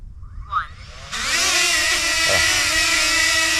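DJI Flip drone hovering in autonomous flight outdoors on a hike, its steady whining rotor buzz starting abruptly and holding loud and close, with a brief faint sound just before it.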